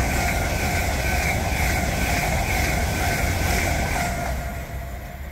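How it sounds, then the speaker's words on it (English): A high-speed train rushes through Northallerton station in North Yorkshire at about 125 miles an hour with a loud, continuous roar and high metallic whine, steady throughout before easing slightly at the end. "there are high speed trains passing through here at 125 miles an hour"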